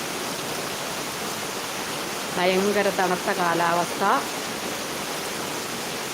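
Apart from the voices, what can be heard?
heavy rain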